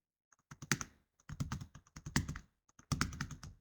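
Keys on a computer keyboard are typed in quick bursts during Excel data entry, crisp close clicks in three clusters separated by short pauses, with no voices.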